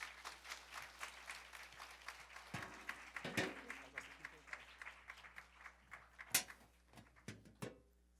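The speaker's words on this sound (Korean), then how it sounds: "박수 쳐주세요" Scattered applause from a church audience welcoming a guest speaker, a loose, uneven patter of claps with a few sharper louder slaps and a bump like a door or furniture, fading out near the end.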